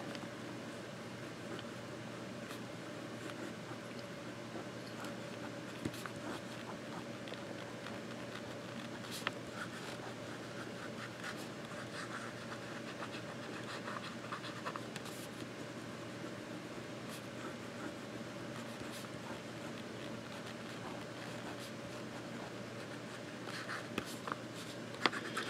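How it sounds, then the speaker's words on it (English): A Pilot Vanishing Point Limited Edition fountain pen with a wet, smooth nib scratches softly across paper, faint continuous writing strokes with occasional light taps over a constant room hum. "And we'll just write the name down here while I'm at it."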